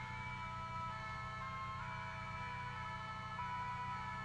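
An ambulance siren wails steadily at a moderate, slightly distant level over a constant background rumble of traffic, with no speech.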